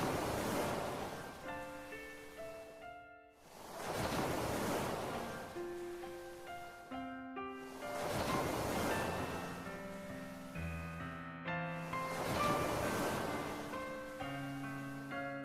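Ocean waves churning and surging in repeated swells, loud and close, with a tonal music bed running underneath.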